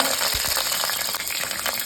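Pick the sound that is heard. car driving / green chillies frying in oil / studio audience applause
green chillies frying in oil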